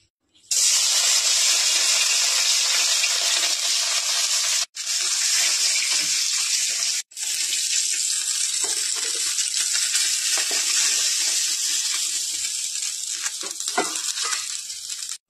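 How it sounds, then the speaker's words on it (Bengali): A fish head, rubbed with salt and turmeric, fries in hot oil with a loud, steady sizzle. The sizzle is continuous apart from two brief breaks and eases slightly toward the end. No one speaks. "মাছের মাথাটা ভাজার জন্য তেল নিয়ে নিচ্ছি"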